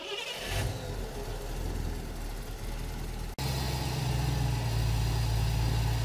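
A car engine fitted with a Holley Sniper EFI and a magnetic pickup distributor cranks, catches midway and settles into a loud, steady idle close by, with no talking.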